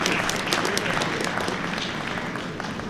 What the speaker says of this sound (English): Crowd very much into this match here, appreciating a 10.